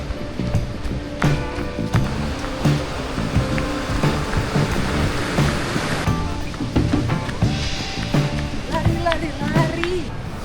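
Ocean waves rolling onto Kuta Beach in Bali, a constant loud wash of surf with breaking rhythm, while people talk nearby over the water.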